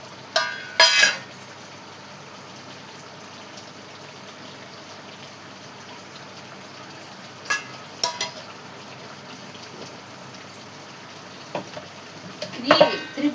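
Chillies stirred and frying in a pan for a triple mango pickle masala give a low, steady sizzle, broken by a few scraping stirs near the start, in the middle and at the end.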